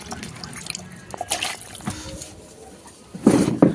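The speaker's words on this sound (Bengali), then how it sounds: "মাংসটা ভালো করে ধুয়ে নিতে হবে।" Raw chicken meat being washed under water in a home kitchen, with trickling, splashing water and wet handling sounds, growing louder toward the end.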